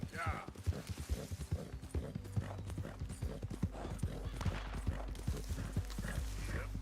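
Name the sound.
horse hooves moving in video game Red Dead Redemption 2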